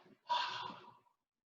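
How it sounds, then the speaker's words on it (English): A single qigong breath, a soft intake followed by a breathy, open "ha" exhale lasting about a second, close and quiet, then silence. "as we come down, we're going to breathe in and exhale and say, ha."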